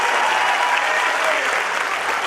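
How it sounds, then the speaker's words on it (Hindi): Audience clapping at a festival event, a loud, continuous burst of many hands applauding together, close and unbroken from start to finish. "अगर आपको लगता हो बात सही है तो ताली बजा के आप भी अपनी मुहर लगा देना"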